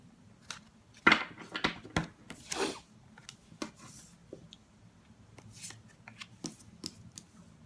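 Tarot cards being shuffled for a reading, soft riffling flicks and rubbing slides in an irregular pattern, close but quiet over a low background hum.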